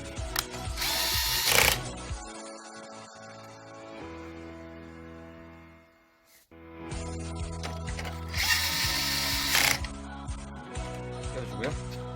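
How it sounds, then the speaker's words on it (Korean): A power screwdriver drives two screws while a Samsung multifunction laser printer is reassembled, buzzing in two close bursts with ratcheting clicks and a quiet gap between them. "나사 두 개를 같은 자리에 끼워줍니다."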